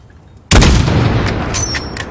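A single sniper rifle shot in Call of Duty Modern Warfare 2 cracks loudly after a quiet lead-in, followed by a long rumbling tail with faint clicks.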